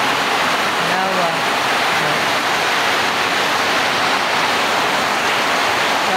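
Heavy rain pours down steadily in Iligan City, a loud and even hiss of falling water that fills the whole stretch.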